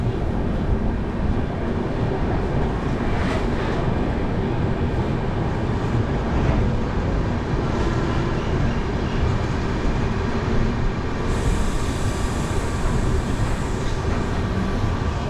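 Kanchan Kanya Express standing at Siliguri Junction during an engine change: a steady, loud rail rumble runs throughout, with a brighter hiss joining near the end and no talk.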